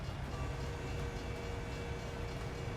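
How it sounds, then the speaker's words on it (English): A train rolls past in a continuous, steady low rumble with faint rail clatter, fairly close and unbroken for the whole moment, with no talking over it. "Oh, there is a train."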